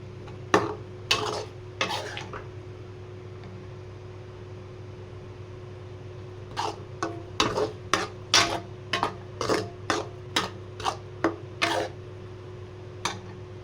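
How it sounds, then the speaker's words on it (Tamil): Turkey berries for thokku in oil with chili powder, salt and asafoetida, stirred in a pan: a faint steady hiss under a hum, with clusters of sharp scraping spoon strokes at the start and a rapid run of them later. "இப்போ எண்ணெய் ஊற்றி சுண்டைக்காயை தொக்கு செய்ய போகிறோம்"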